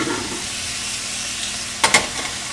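Food sizzling in a pan as it cooks for a Vietnamese dish, a steady close frying hiss that stays even throughout, then two quick sharp clatters near the end, no talking.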